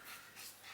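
Soft, rapid panting from a dog, breathy and steady, close by with no voices.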